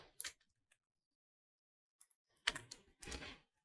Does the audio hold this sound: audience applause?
no